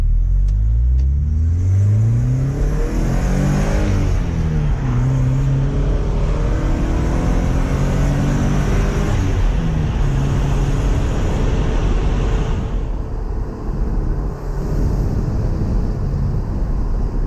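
A stock-exhaust car engine pulls through an intersection, its loud mid-pitched drone rising and falling steadily with acceleration, close and continuous throughout.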